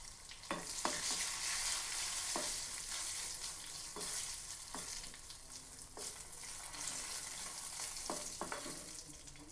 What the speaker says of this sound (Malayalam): കടുക് പൊട്ടിക്കാം